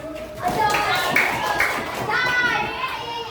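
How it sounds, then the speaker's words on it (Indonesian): Schoolchildren clap together in a quick burst in a classroom while young voices chatter and call out over it, close and lively. "Tepuk tangan."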